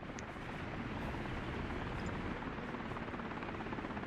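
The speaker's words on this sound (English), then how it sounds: "One helicopter has been called." A helicopter in the city-building game Workers and Resources, called out to a kindergarten fire, gives a steady, dense rotor-and-engine roar that holds at an even level for the whole stretch with no talk over it.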